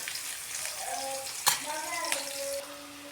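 Methi leaves frying in oil give a soft, steady sizzle with light stirring clatter and a couple of sharper clinks, moderately quiet and continuous; a faint tonal hum runs beneath, and no one speaks.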